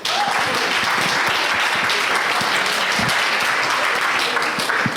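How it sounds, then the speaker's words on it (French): Audience applause for the speakers on a panel at an allies' assembly, steady and dense clapping from a full room that continues loudly for the whole stretch. "On peut les applaudir."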